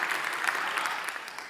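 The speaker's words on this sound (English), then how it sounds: "He deserves an applause" Audience applause at a Techstars startup demo day, a short burst of dense, even clapping from a crowd, steady throughout and tapering slightly at the end.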